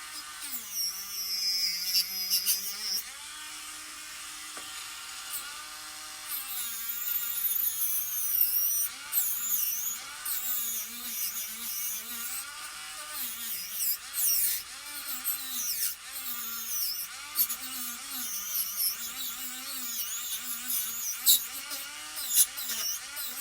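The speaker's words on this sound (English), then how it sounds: "I'm getting a good polish on the spoon, and I'm also deburring" A power tool polishes and deburs a metal spoon, its high whine rising and falling in pitch as the tool is pressed and eased against the workpiece, close and continuous.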